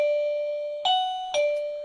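A G2 self-powered wireless doorbell receiver plays its classic ding-dong chime, a sustained clear tone followed by two sharp, bright strikes that ring on, loud and close with no voices.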